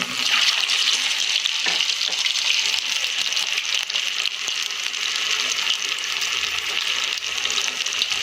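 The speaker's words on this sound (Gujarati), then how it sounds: "મીડિયમ ગેસ ઉપર આપણે આને કલર ચેન્જ થાય એ રીતે આપણે ફ્રાય કરીશું" A crispy snack made from leftover flour fries on a medium gas flame, giving a dense, steady hiss and sizzle of oil that carries on without a break and sounds close.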